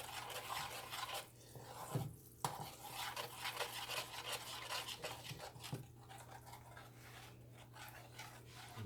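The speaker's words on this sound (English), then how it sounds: "Add that in, we're gonna stir it up" A spoon stirs cream cheese caramel pound cake batter with heavy cream in a bowl, giving a steady, close, wet scraping and rubbing sound with occasional louder knocks against the bowl.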